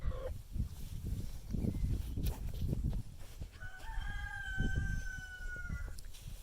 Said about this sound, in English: Barbara and Barney, the Barred Rocks